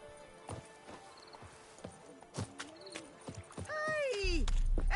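The horse Roach in The Witcher 3 walks with steady, clopping hoofbeats, then whinnies near the end, joined by a louder low rumble, with brief voices mixed in.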